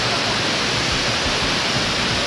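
Water crashing hard onto rocks at Balagbag Falls in Real Quezon, a loud, steady roar of dense hissing spray and deep rumble that stays constant throughout with no voices.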